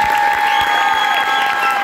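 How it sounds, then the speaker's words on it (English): Loud crowd applause with cheering at a mayor's election victory acceptance speech, a steady dense roar of clapping that fills the whole moment without pause. "That deserves a round of applause"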